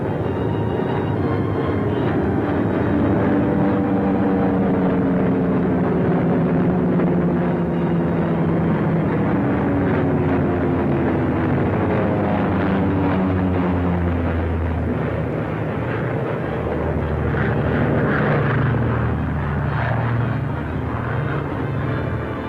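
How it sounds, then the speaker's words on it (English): Drone of World War II bomber engines as returning aircraft approach and land, a continuous loud, heavy roar with steady low pulsing that swells slightly toward the end. "Bombers went out, and 6 are coming back."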